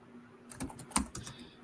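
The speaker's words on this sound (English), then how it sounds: "I hear you typing, but I don't hear you speaking." Quick, light clicks of fingers on a computer keyboard during an online call, about a dozen keystrokes in a short uneven burst, close and fairly soft.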